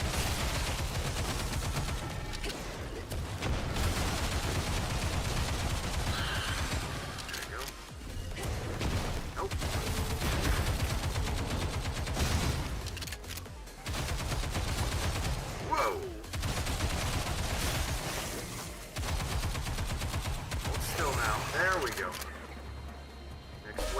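Gunfire from the action video game Stellar Blade comes in rapid bursts as enemies are shot, steady and moderately loud, with a voice talking over it.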